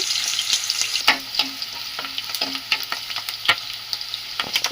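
Chopped onions and green chillies sizzle in hot oil, a bright continuous frying hiss with frequent scraping stirs of a spatula, close up and without speech.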